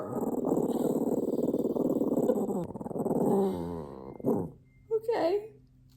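Dogs growl in a long, low rumbling stretch that rises into louder snarls, then breaks into a few short sharp barks and yips near the end, close and fairly clear.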